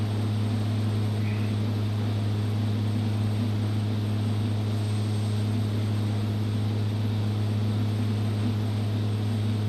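A Thranda Pilatus PC-12 turboprop climbs after takeoff over Hawaii in the X-Plane 12 flight simulator, giving a steady, unbroken engine drone with a strong low hum and a faint hiss, with no talking.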